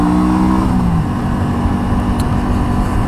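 A Volkswagen Scirocco engine runs continuously and loudly close by after a rebuild, giving a steady, even drone throughout.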